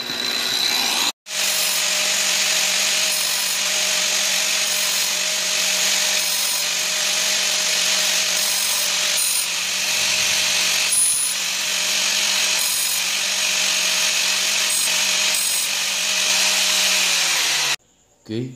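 Angle grinder mounted in a homemade jig grinds the teeth of a carbide circular saw blade, a loud steady whine with a constant tone that runs almost the whole time, broken by one short pause near the start and stopping just before the end.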